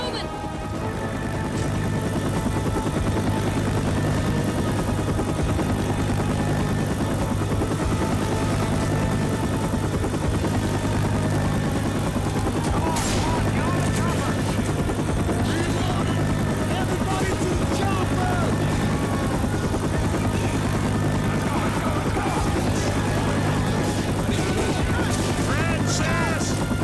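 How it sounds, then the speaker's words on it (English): Rescue helicopter in Left 4 Dead 2 arriving at the rooftop of the No Mercy campaign, a steady loud rotor drone running the whole time under game effects and voices. "Oh, my chopper's here."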